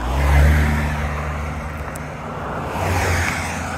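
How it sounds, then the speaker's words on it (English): Cars driving by on a road behind someone standing outdoors, a steady traffic rumble that swells, dips and swells again as vehicles pass fairly close. "Oh, these cars behind me."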